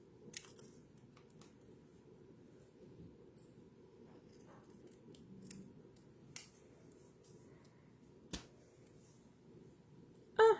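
Scissors trim a paper craft piece in a quiet room, faint soft snips with a few sharper clicks spaced out, close by.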